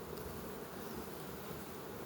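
Honeybees buzzing steadily around an opened hive, a dense continuous drone close by with no voices.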